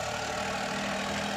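A tractor engine rumbles past on a road while a car waits during a driving lesson: a steady, loud mechanical drone with no break.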